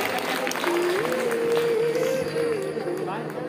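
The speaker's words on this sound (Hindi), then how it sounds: "बारी बारी तालियां बच्चों आप लोग बजता रहे।" Children applaud at a school function, a dense, continuous patter of clapping spread through the room while someone talks over it through the whole stretch.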